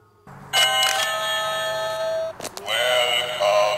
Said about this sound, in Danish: Der er nogen, der ringer på. Jeg har lige købt en ny dørklokke her.